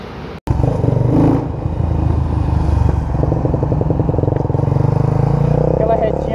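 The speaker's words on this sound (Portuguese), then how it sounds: "Então bora pôr na pista as duas aí." A Honda CBX 250 Twister and a 2018 Yamaha Fazer 250 race, their engines droning loudly and steadily close by after a sharp cut, with a voice talking over the rumble.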